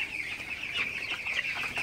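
Young broiler chickens in a hot poultry shed make a dense, steady chorus of high chirping and clucking close by, with no talk over it.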